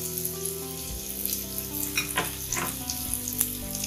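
Spices and onions sizzling in hot oil in a pan while sautéing masala for a Chettinad fish curry, a steady close crackling fry with soft stirring scrapes and no talking.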